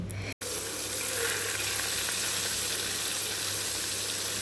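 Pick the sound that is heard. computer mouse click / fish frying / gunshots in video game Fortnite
fish frying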